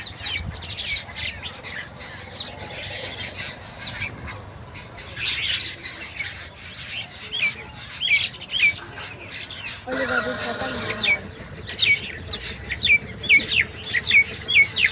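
Many birds squawk and chirp close by as grain is scattered for them outdoors, with dense, overlapping calls throughout and people talking quietly underneath.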